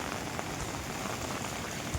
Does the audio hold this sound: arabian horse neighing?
no